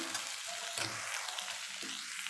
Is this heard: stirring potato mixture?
yes